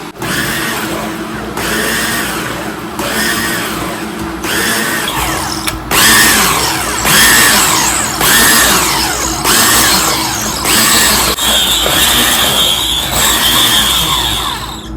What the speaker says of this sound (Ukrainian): дістала ще насадку для пюре і зараз швиденько переб'ю